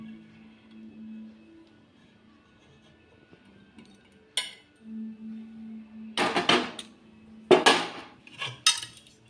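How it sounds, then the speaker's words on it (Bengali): A spoon clinks and scrapes against a bowl as pitha batter is mixed with warmed patali jaggery, in scattered bursts of clatter after a quiet hum, with no talking. "ব্যাটারটা ভালো করে মিশিয়ে নিচ্ছি।"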